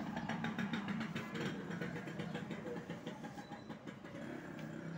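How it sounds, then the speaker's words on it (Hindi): Road traffic passes beside a roadside workshop, a continuous low rumble of engines from motorcycles and cars that stays moderately distant and even, with no distinct horn blasts standing out. "मोटरसाइकिलें, बाइक्स, कार और हॉर्न वगैरह सारे आवाज़ें आती रहती हैं दरमियान में"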